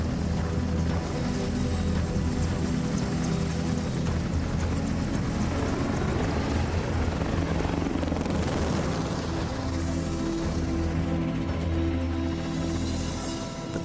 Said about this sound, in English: The father of the helicopter, Leonardo da Vinci, would love to fly this helicopter.